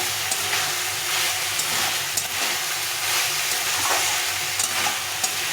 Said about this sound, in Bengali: এটাকে ভালো করে একটু কষিয়ে নেব কষাতে হবে অনেকক্ষণ ধরে